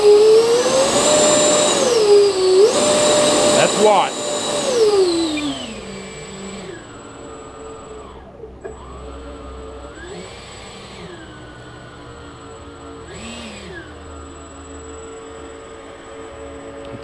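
Twin 70 mm electric ducted fans on an FMS 1500mm A-10 model jet whine loudly and rise and fall in pitch as the throttle is worked, then drop to a quieter idle whir with short throttle blips, close by, with a brief spoken remark.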